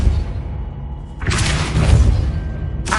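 A Depulso spell cast in Hogwarts Legacy gives a sudden loud whooshing burst that breaks over a low rumbling background and then decays. A second burst begins near the end.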